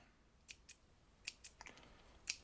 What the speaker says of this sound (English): I would just go ahead and cut my threads off